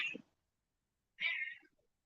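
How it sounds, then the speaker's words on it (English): Two short cat meows, one clipped at the start and a longer, clear meow about a second later, as one cat pesters another indoors, with silence between them. "my cat is just bugging the other cat so bad."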